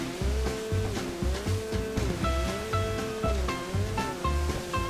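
A jet ski engine in GTA 5 revs in repeated bursts with a rising whine, blended with water splashing and surf, loud and close, the pitch climbing and dropping in a rhythmic pattern.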